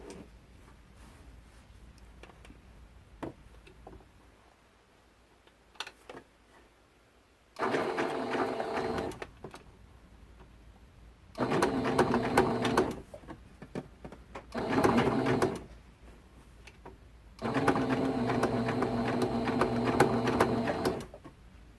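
A sewing machine stitches T-shirt quilt blocks together, running in several loud, steady bursts of rapid mechanical chatter separated by quiet pauses with faint clicks and handling sounds.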